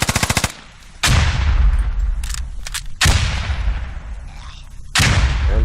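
A grenade blast and bursts of gunfire in the military shooter game Squad during close-quarters fighting on Al Basrah: sharp rapid automatic shots, then several heavy booming explosions a second or two apart, each ringing out with a long decaying tail.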